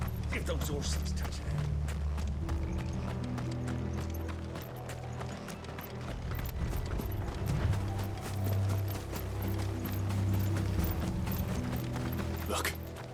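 Horse hooves clip-clop steadily in the Final Fantasy XVI video game, with creaking wooden cart mechanisms and rattling gear under game music, while voices talk over it.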